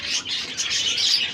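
Exhibition budgies in a breeding room chirp and twitter continuously in a dense, bright, overlapping chorus, moderately loud and steady throughout with no talking.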